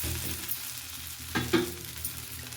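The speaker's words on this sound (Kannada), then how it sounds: "ತಿರುಗಿಸ್ಬಿಟ್ಟು ಕೂಡ ಇನ್ನೊಂದ್ಸಲ ಬೇಯಿಸ್ಕೋಬೇಕು." A dosa cooks in oil on a pan, a tempered dosa flipped to cook its second side, giving a steady close sizzle with a couple of brief louder scraping or stirring touches.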